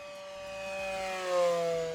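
A Durafly P-40M V2 Aleutian Tiger 1100mm electric model warplane on 4S power makes a fast pass at full throttle, its high steady motor and propeller whine rising in pitch and swelling louder as it nears.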